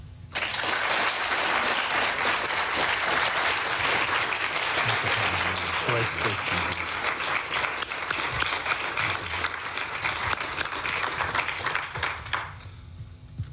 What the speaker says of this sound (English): you also heard from the warm applause